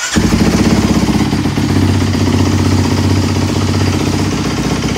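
A 2022 Kawasaki KX250X dirt bike fires up and settles into a loud, close, steady idle, its engine pulsing evenly without revving and with no talking.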